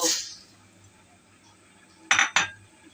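A spoon knocks twice against a pot in quick succession while sugar is added to mango cooking on a stovetop, with quiet background hum and a faint clink at the start.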